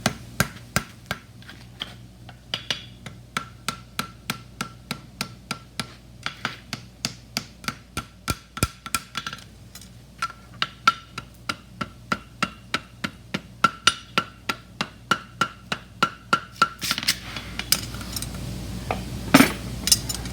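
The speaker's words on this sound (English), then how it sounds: "pull with the heel of my hammer to get that in and to get this in" A hammer strikes a Saddlebred horseshoe while a toe clip is forged. The sharp metallic blows ring out close and loud in a steady, rapid rhythm, then trail off into a few scattered final strikes.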